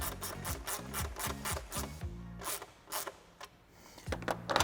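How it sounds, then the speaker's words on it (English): A 10mm socket on a 1/4-inch drive ratchet snugging a bolt during a cold air intake install on a Bronco, giving quick repeated rasping clicks in close bursts with short pauses, no talking. "We'll take our 10mm on my 1/4" drive ratchet."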